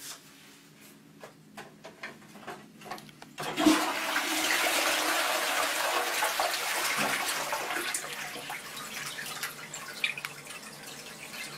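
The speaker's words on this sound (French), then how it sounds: "On va pouvoir tirer la chasse d'eau et voir que l'eau va perler sur la céramique." A few faint clicks, then a ceramic toilet flushes with a loud rushing gush of water that continues steadily to the end.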